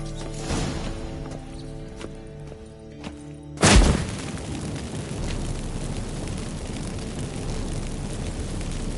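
Witcher 3 magic incense fireworks go off with a sudden loud burst, followed by a sustained crackling, rumbling wash over a steady game ambience.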